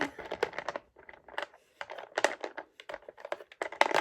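Dungeons and Dragons dice clatter and tick close by in quick uneven bursts of sharp clicks, broken by short pauses, with no voices.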